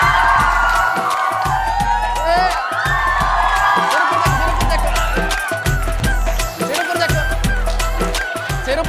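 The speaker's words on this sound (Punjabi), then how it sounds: "ਤਾੜੀਆਂ ਲਾਓ ਇਹਦੇ ਵਾਸਤੇ ਜ਼ੋਰਦਾਰ।" School audience at DAV School, Samana, applauding and cheering, a loud, dense wash of clapping and shouting with a pounding rhythmic beat underneath that carries on without pause.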